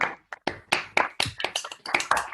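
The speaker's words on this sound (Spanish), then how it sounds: "Vamos a aplaudirlo entonces." Scattered, uneven hand clapping for Marco from a small audience. The claps are close and distinct, arriving in irregular bursts across about two seconds with short gaps between them.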